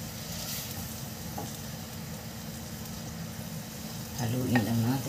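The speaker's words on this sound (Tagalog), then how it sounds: "Kailangan haluin natin ng maigi para hindi kumait yung ating garlic." Garlic is stirred as it fries in oil for homemade chili garlic oil. A steady bubbling sizzle runs throughout, joined near the end by louder scraping and stirring from a utensil in the pan. No one speaks.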